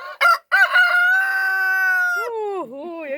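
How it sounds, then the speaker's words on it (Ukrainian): A rooster crows once nearby, loud and clear, with a couple of short clucks leading into a long, drawn-out call that ends in a falling tail. "який класний півень"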